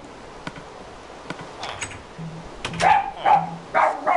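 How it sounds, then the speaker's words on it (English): A dog lets out several short barks and yips nearby, scattered over a few seconds with faint clicks in between. "Sorry about the dog barking."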